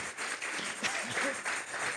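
Church congregation applauds, a dense patter of many hands clapping through the whole short stretch, with voices faintly mixed in.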